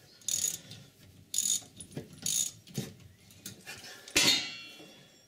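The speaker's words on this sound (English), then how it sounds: "we'll carry on with the ratchet" A hand ratchet turns a stud extractor on the rear suspension of a Triumph Vitesse, giving four or five short bursts of close, loud clicking separated by brief pauses.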